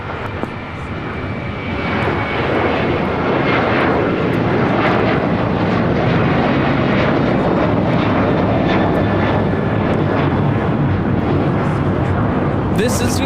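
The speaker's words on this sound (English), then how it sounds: "1651 taking off to Chicago O'Hare on a 737-800" United Airlines Boeing 737-800 taking off from LAX for Chicago O'Hare, a loud, sustained jet engine roar that swells early and stays powerful throughout, with brief bursts of radio chatter and people talking over it.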